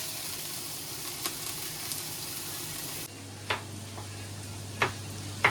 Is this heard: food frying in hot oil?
yes